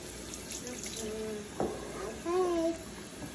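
Water runs from a tap into a sink during handwashing, a steady low wash with faint clinks and a brief splash partway through, heard alone without speech.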